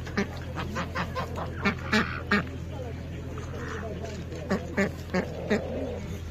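Ducks quack in short bursts against a noisy outdoor livestock market background in Łomża, Poland, with people talking nearby.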